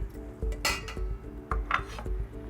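Beet tops dropped into a metal pot, with several clanks and clinks of metal and a scrape or stir, close and moderately loud in a kitchen setting.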